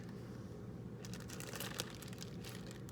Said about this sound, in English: I'm now going to seal my plastic bag